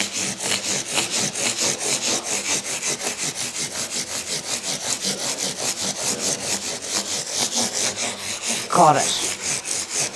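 Guitar frets are sanded with 240 and 400 grit sandpaper in steady, rapid back-and-forth strokes, close and continuous, with a brief spoken remark near the end.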